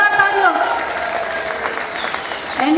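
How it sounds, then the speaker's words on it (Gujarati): Audience applause at a live Gujarati folk music show in London as a performer is introduced, a dense sustained clapping from a large crowd heard under an announcer's voice. "જોરદાર તાળીઓ"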